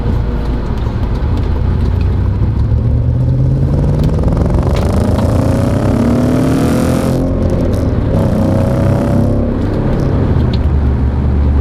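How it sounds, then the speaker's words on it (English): An Audi B7 RS4 V8 engine revs high while driving, with rising and falling engine tones sweeping up through the gears, loud and close, a steady roar throughout and no talk. "One of the best things about this V8 in the RS4 is that it's just it's so high revving."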